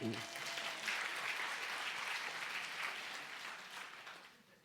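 Congregation applauding during a Sunday morning worship service in a church, steady dense clapping throughout that fades slightly toward the end.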